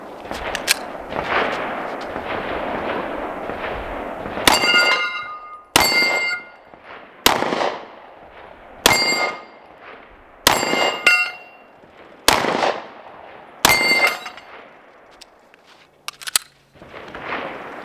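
A Canik Mete MC9 pistol fires at steel targets: about nine sharp, loud shots spaced a second or two apart, each followed by a ringing metallic clang. A quicker run of fainter pops comes before them.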